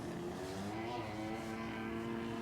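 A small Yamaha PW dirt bike passes by outdoors, its steady buzzing engine drone holding at a constant moderate level from start to finish, a little distant, with no talk.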